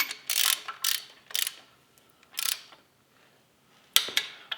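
A ratchet torque wrench tightens forged-engine bolts in sequence on a JCW engine rebuild, giving several short bursts of rapid clicking with brief pauses between them, close up.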